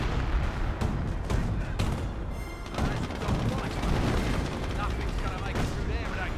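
Artillery barrage in the Company of Heroes video game, a dense rumbling wash of booms and explosions rolling on continuously, loud and close, with other battle noise mixed in.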